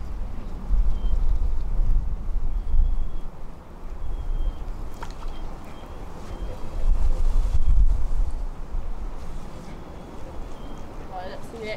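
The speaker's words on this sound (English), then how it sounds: "the wind's got hold of the line" Outdoors at a lake while fishing, wind rumbles and buffets the microphone in uneven gusts, loud and low, with faint birds and brief sounds in the background.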